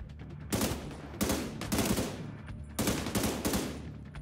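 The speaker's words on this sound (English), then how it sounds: "I'm just trying to keep everyone off that machine gun if I can" Machine-gun fire from The Division 2 rattles in three loud, rapid bursts with short pauses between them, close and harsh with no talking.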